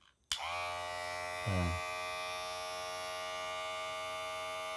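A VGR VL-118 electric hair trimmer switches on with a sharp click and runs with a steady, close buzzing hum, briefly dipping in pitch as it meets resistance before settling back to an even drone.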